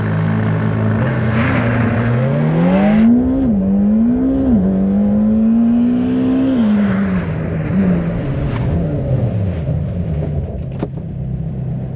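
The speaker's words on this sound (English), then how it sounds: "Switch everything to track mode, press the launch button, left foot on the brake, right foot on the throttle, off the brakes, and away you go." A McLaren Senna launches hard from a standstill under launch control, its engine note climbing through several rising gear pulls with brief dips at each shift, loud and close, then easing off.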